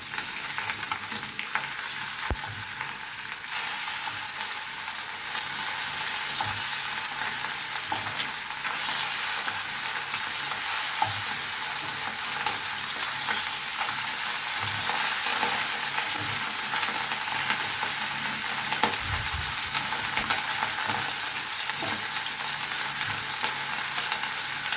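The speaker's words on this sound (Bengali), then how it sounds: "এই মাছটাকে আমি একটু মশমশা করে ভেজে নিই" Fish frying crisp in a pan, a steady close sizzle with soft crackles and occasional stirring or turning clicks running throughout, with no voices.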